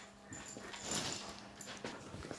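Dogs whimper softly in a room, quiet high whines rising and falling over a few seconds, close but faint, with no talking.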